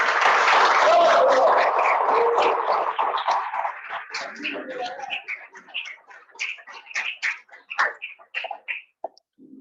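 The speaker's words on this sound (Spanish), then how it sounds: "Un fuerte aplauso al Señor" Dense applause from an audience at a charismatic Catholic formation-school gathering, loud at first, then thinning into scattered, separate claps that fade out over the last few seconds.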